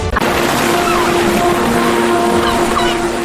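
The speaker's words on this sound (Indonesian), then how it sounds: "Menyaksikan ombak terakhir hari ini, rasanya seperti diingatkan lagi betapa setiap perjalanan punya ujung tapi juga awal yang baru" Ocean waves wash steadily onto the shore at Oesapa beach, a continuous broad rush of surf that holds at an even level throughout with no talk.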